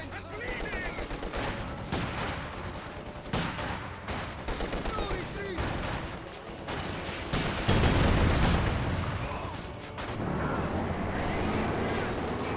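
Rapid gunfire and explosions from a Company of Heroes 2 battle, including SU-76 gun shots, form a dense, loud, continuous barrage, with someone talking over the combat.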